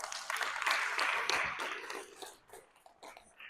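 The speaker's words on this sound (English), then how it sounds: "give yourself a round of applause." An audience at a conference session claps, giving a dense, noisy wash of applause that is loudest at first and then thins into scattered claps as it fades.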